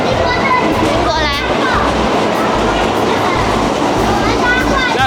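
A train pulls into a station platform in Kobe, Japan, with a loud, steady rumble and brief squeals, while adults and children chatter over it.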